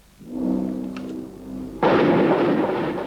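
Gunfire and artillery during street fighting in Grozny, Chechnya, in August 1996: a low distant rumble, then a sudden loud blast that rolls on as a sustained roar, with no voices.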